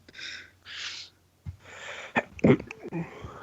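A single sharp sneeze bursts out after a couple of breathy inhales, followed by some shuffling and faint movement noise nearby.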